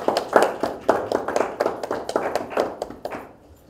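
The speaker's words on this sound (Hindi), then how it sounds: "आपकी बहुत सारी तालियों की गूंज में" An audience at an Easter poetry mushaira claps to welcome a poet, a close, rhythmic run of sharp handclaps that thins out and stops near the end.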